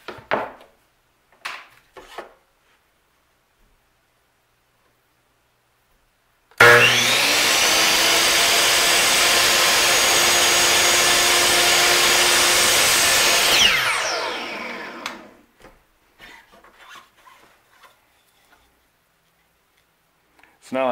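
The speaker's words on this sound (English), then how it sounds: "do another plunge cut with a 3/8-inch bit." A router plunges a 3/8-inch bit into wood with a loud, sustained whine lasting about seven seconds and then spinning down. Quiet handling knocks and clicks come before and after.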